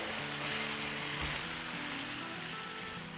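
Keema frying in a kadai with garlic paste, a soft steady sizzle and hiss under a low droning hum, fairly quiet and unbroken.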